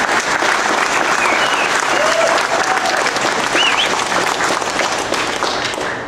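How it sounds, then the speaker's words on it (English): A rally audience breaks into loud, continuous applause, a thick wall of many hands clapping from start to finish with faint crowd voices mixed in. "I want to take a moment to thank you and give you some applause"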